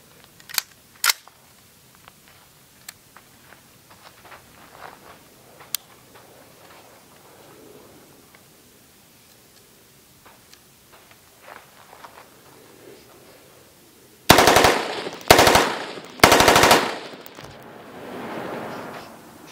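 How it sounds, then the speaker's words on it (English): Bursts of full-auto fire from an AR-15 post-sample rifle shooting 5.56 steel-case ammunition: three loud, rapid strings close together near the end, after a long quiet stretch broken only by a few faint sharp clicks. "although I was shooting full auto, I wasn't really trying to hit anything"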